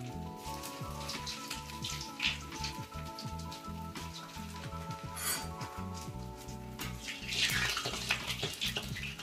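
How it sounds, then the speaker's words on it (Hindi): Bread pieces fry in hot oil with a steady, dense crackling sizzle that stays close and loud throughout, with small pops and bubbling layered on top. "अब जो है हम इनको तलना शुरू करेंगे"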